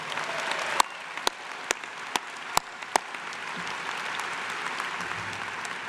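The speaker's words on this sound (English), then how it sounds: "Let's give him a round of applause." Audience applause at a bachelor's graduation ceremony, a broad steady wash of clapping from a large crowd filling the whole stretch, with a few sharp louder claps standing out near the start.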